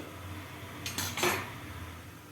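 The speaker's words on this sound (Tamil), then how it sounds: "இந்த ஹைட்டுக்கு நான் இட்லி பாத்திரம் வச்சுருக்கிறேன்" A metal idli steamer pot clinks and clatters briefly in a short burst of handling, a couple of bright knocks close by, with a quiet room behind it.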